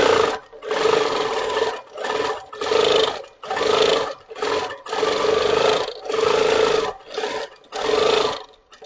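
A sewing machine stitching a quilt with green thread runs in repeated loud bursts of about a second each, separated by brief pauses, close and without talk.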